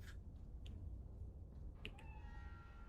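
A cat meows in a video game, a few short faint mews over a steady low rumbling game background, with no talking.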